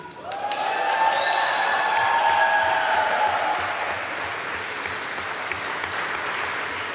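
Loud, sustained standing applause from a large crowd filling a national congress chamber, steady clapping that swells and then slowly thins out, with a few high whistles early on.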